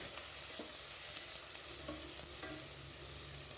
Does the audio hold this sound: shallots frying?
yes